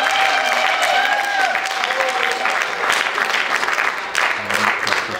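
A church congregation applauding and cheering, a dense sustained wash of clapping with voices rising above it, loud and close throughout.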